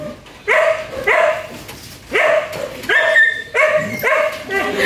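A dog barks repeatedly in short, loud bursts close by, with a few higher yips mixed in, while people talk in the background.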